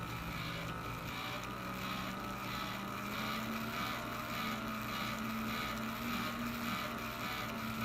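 Electric motor driving a set of oscillating pendulums of different lengths, a constant whirring hum with a faint rhythmic pulsing, steady and moderately close with no talking.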